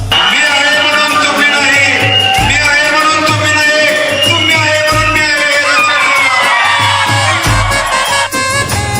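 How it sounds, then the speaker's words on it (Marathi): Children cheer and shout nonstop amid a loud, dense crowd at a Muharram procession in Bagani, with heavy low thumps pulsing underneath throughout. "मुलांचा जल्लोष बघा"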